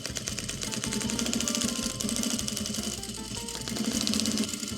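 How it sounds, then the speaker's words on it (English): A sewing machine stitching flat internal bone channels on a corset, running continuously at a fast, steady rhythmic whir with a slight change in pace partway through, close and loud with no talking. "Then we sew down our channels flat."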